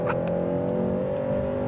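A 2025 Hyundai Sonata N-Line in Sport Plus mode accelerates onto an interstate, heard from the cabin as a steady, droning engine hum under road noise with no break.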